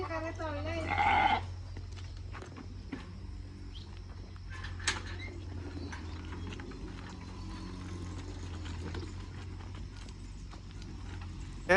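A freshly sheared sheep gives one clear bleat near the start, then a low steady hum and faint rustling continue.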